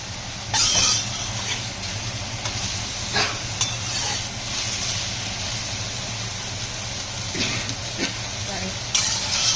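Shiitake mushrooms are stir-fried in a hot wok with a continuous loud sizzle and hiss. Occasional scraping strokes come from stirring, over a steady low hum from a fan.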